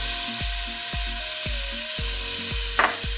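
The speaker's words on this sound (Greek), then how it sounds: "θα βάλουμε λαδάκι στην κατσαρόλα. Θα ρίξουμε το κρεμμύδι." Onion sizzling in olive oil in a pot, a steady frying crackle with repeated low thumps of stirring and a brief clink near the end, with no talk.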